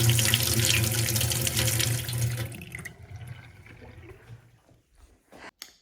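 A cold water tap runs into a kitchen sink with a strong, steady gush that weakens and sputters to a trickle, followed by a few faint clunks.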